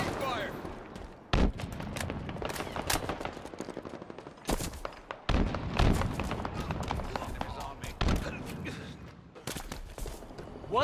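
Gunfire in the Halo Infinite video game cracks out in several loud, sharp shots spread unevenly across a busy mix of game effects and footsteps, with someone talking throughout.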